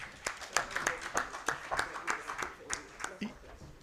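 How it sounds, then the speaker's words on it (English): A conference audience at a tech-enabled financial inclusion event gives a short round of scattered applause, faint and sparse individual claps spaced irregularly, with a voice speaking over them. "A hand clap also to yourselves"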